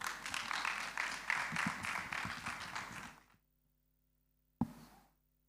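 Audience applause at a graduation ceremony, a sustained round of clapping from a crowd that stops abruptly, followed by silence and a single knock.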